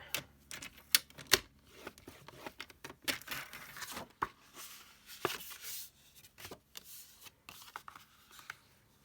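A half sheet of cardstock is scored for a birthday card base, with a series of close, crisp scraping strokes and small taps alongside rustling paper handling, fairly quiet and irregular.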